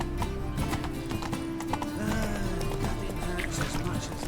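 Horse galloping in the video game The Witcher 3, rapid hoofbeats running steadily under music and occasional voices throughout.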